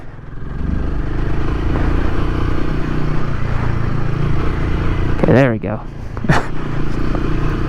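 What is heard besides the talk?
2024 Royal Enfield Himalayan motorcycle engine revving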